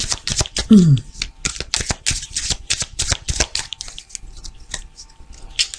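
A tarot deck being cut and shuffled, with dense bursts of papery card slaps and flicks in an uneven rhythm, close and fairly loud, with no voice over it.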